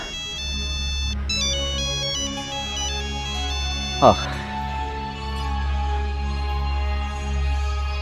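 A mobile phone ringtone plays a melodic electronic tune of repeating tones, loud and steady for several seconds, with voices talking over it.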